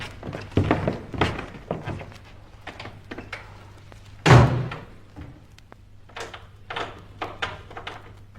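Doors being pushed shut, with a loud heavy thunk near the middle among several lighter knocks and clatters, indoors.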